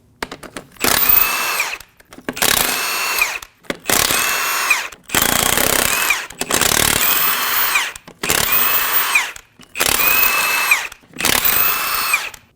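A power tool with a 22mm socket spins off the eight lug nuts on a Ram 2500 front wheel. Eight loud, separate whirring bursts of about a second each are divided by short quiet gaps, each ending with a rising whine.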